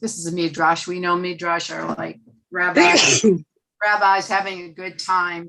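A sharp, loud sneeze breaks into a man's speech at close range, with talking continuing on both sides of it.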